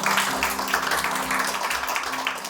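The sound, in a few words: church congregation applause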